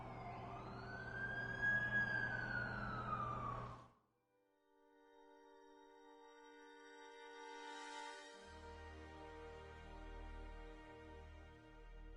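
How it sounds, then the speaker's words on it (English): An ambulance siren in the video game The Amazing Spider-Man 2 wails in loud, sweeping rises for about four seconds, then cuts off and gives way to a low, steady hum of tones. "That's the ambulance I called."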